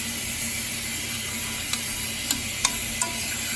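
White onions sizzle steadily as they fry in a pan, with a constant hiss broken by a few faint clicks and taps of a utensil stirring them.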